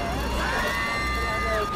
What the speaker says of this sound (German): Oh, es kommt sogar eine Sirene.